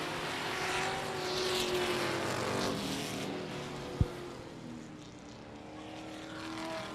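Race trucks accelerate and roar past on the I-37 Speedway oval during a regular race program, a continuous loud engine drone with passing swells and one sharp bang midway.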